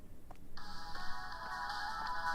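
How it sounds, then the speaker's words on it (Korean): A phone ringtone in a horror video game set during a night shift at a café starts about half a second in and rings steadily to the end, a bright electronic melody with brief gaps, moderately loud with no talking. "누군가의 전화기"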